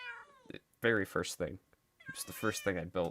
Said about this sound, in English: Sorry about the cats too.